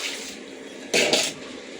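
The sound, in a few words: washing mixer jar with water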